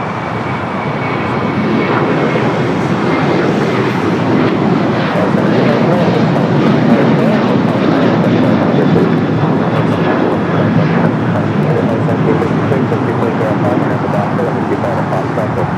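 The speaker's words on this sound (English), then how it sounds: "The delayed Qantas Dreamliner, Flight 15, coming in from Brisbane." A delayed Qantas Boeing 787 Dreamliner arriving at LAX after a flight from Brisbane, its jet engines giving a loud, steady broadband roar that holds for the full length.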